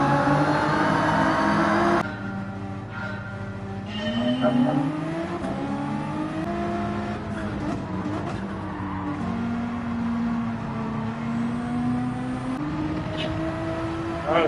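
Race cars accelerate and rev continuously through a race, engine notes rising and shifting in pitch with a brief skid or tire squeal, the loud engine drone dominating throughout.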